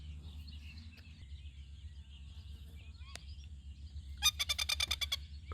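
A small bird in Australian bush gives a quick run of bright, rapid chirps near the end, standing out clearly over a steady low background hum after mostly quiet moments.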